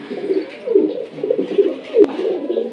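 A bonding pair of bronze chila Kashmiri home pigeons coos in repeated soft, throaty phrases close by, with a brief sharp click partway through and no talking.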